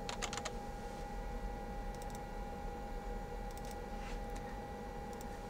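Keys tapped in short bursts on a computer keyboard while entering a file name in atomic force microscope software, set against a steady lab hum with a constant tone.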